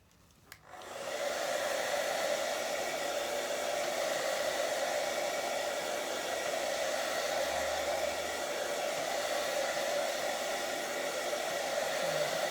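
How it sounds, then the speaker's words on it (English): A hairdryer on a cool setting runs steadily for several seconds, drying a magazine image transfer on a gel plate; a constant close whooshing roar starts abruptly after a brief click and continues alone without talk. "I'll just get a hairdryer now and just dry her off slightly."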